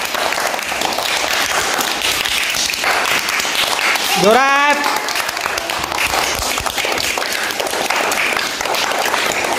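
A classroom of students applauds loudly and continuously throughout after a number game in a maths lesson, with a voice briefly calling out over the dense clapping.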